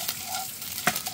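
Stir-frying corned beef fried rice at a windy hillside campsite, with sharp scraping stirs and short sizzling bursts from the pan, up close and fairly loud, no talking.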